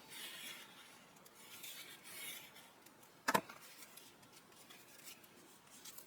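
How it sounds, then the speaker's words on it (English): Faint rubbing and rasping as a paper decoration is burnished onto a Kmart album, with one sharp tap partway through. "And then we are going to burnish that really well."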